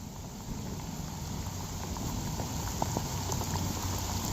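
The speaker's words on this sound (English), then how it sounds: "Jeremiah, what you think of the rain?" Steady rain falls on an outdoor disc golf course, a continuous soft hiss with scattered drop patter, fairly even in level and heard alone without talk.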